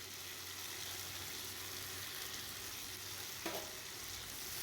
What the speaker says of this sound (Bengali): যতক্ষণ না কড়াই থেকে তেল ছাড়ছে ততক্ষণ আমি এই আলু আর মশলা দিয়ে কষে নেব।